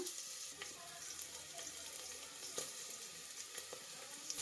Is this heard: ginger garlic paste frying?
yes